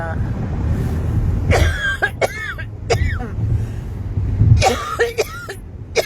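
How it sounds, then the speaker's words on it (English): Several sharp coughs in short bursts over a steady rumble of wind or engine noise, with a voice briefly heard between them. "hold on, I'm coughing."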